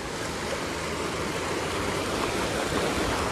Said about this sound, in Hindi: ये देखो भाई, ये पानी आ रहा ऊपर ग्लेशियर से मेल्ट होकर।